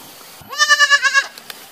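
A goat bleats once, close and loud, in a single wavering call with a rapid pulsing tremble, followed by a few faint clicks.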